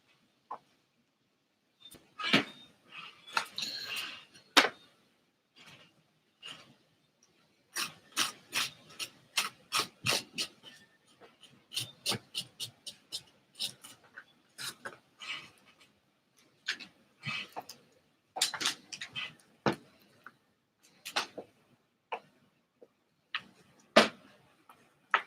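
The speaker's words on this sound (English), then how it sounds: "Just scraping a little bit more off." Scraping a carved pumpkin into a Jason mask with a hand tool, a series of short, rasping scratches in irregular bursts, fairly close and clear, with quiet pauses between strokes and no talk.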